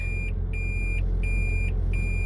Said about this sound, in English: That beeping is just inside. So I know I'm in reverse.